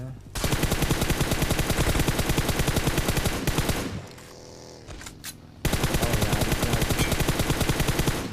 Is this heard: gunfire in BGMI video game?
yes